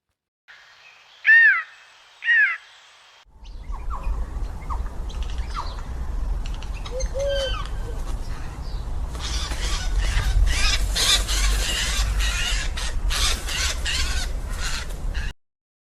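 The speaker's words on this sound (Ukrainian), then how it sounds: "Сойка осілий кочовий птах." A Eurasian jay gives two short harsh calls close by, then a steady rustling outdoor background with scattered other bird chirps and a louder broadband rasping stretch later.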